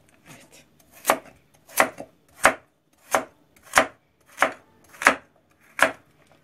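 Knife chopping vegetables on a cutting board for a home-style cauliflower dish with minced meat and potatoes: eight sharp, evenly spaced chops ring out close and clear, with no talking.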